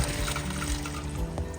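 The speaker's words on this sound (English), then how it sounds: "we're just going to go ahead and drain that water off" Hot water from cooked pasta being drained off from a pot, a soft, continuous pouring splash with faint gurgles, close by and without talk.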